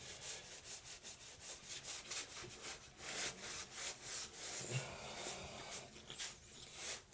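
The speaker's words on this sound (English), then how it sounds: "just a little kind of light scrub just to smooth out the joints" Epoxy grout joints on tiles being scrubbed lightly with a circular motion to smooth them, giving steady rhythmic rubbing strokes, close and fairly quiet, with no talk.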